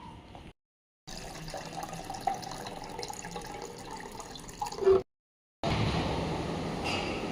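Tap water runs steadily into a bottle at close range, with a brief pause before the flow resumes and the pitch of the filling shifts.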